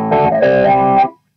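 A keyboard played through an amplifier with a distortion effect gives a loud, buzzing, harmonically rich sustained chord with shifting notes for about a second, then cuts off into silence.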